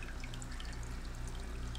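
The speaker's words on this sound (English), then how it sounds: "canister filter is pouring" Water from an aquarium canister filter outflow pours steadily into a planted 10-gallon tank, a continuous close splashing trickle that stays even throughout with no talking.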